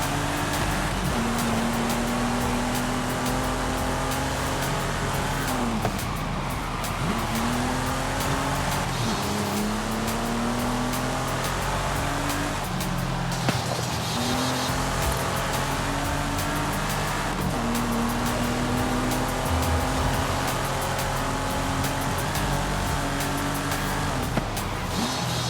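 Porsche race car in Forza Horizon 5 driving steadily, a sustained engine drone with rising and falling pitch as it shifts through gears, loud and continuous with no talk over it.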